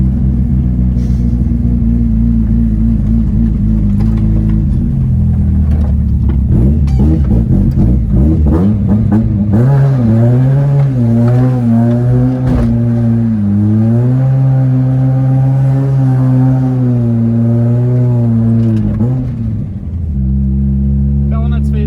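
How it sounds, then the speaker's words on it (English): Car engine revving hard and holding high, steady revs with rising and falling pitch, loud and close throughout, as the car does skids; tire noise is not clearly separable from the engine roar. "I want to do more skids."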